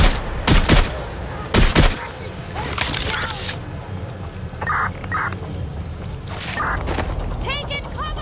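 Gunfire in the video game Watch Dogs Legion, with sharp loud bursts early on and scattered shots and mechanical clatter among game sounds later.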